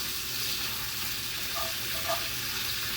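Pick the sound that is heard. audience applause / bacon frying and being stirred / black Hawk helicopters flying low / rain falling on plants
bacon frying and being stirred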